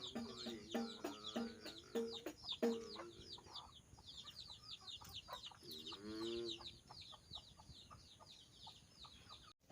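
Chickens and pigeons cluck and chatter in busy, overlapping bursts while eating, with softer bird calls mixed in, close by and without any talking.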